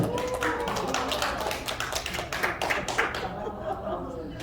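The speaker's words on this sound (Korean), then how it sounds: "박수 한번 쳐주세요." Scattered clapping from an audience, loose and uneven, building briefly and fading out, with faint voices and chuckles mixed in.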